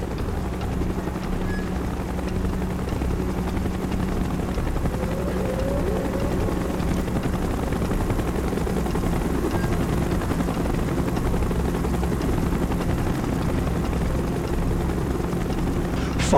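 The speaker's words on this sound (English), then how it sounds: "Chopper's inbound! Move it!" A helicopter arriving in Call of Duty: Black Ops, its rotor thrum steady and moderately loud as it hovers close, continuing evenly throughout without speech.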